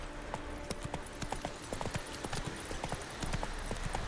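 Hooves of the horse Roach in a video game clatter in a quick, steady galloping rhythm, soft and close, with a faint voice in the background.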